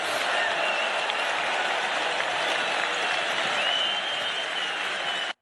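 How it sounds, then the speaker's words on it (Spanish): Dense, steady applause from a large audience at an Argentine political announcement on cutting grain and beef export taxes, loud and continuous for several seconds before cutting off abruptly. "Fíjense que aplaudieron casi igual que con la baja de las retenciones"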